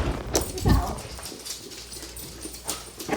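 Dogs whimper and yip close by in a tense home scene after a staged car crash, short excited bursts mixed with people talking over them.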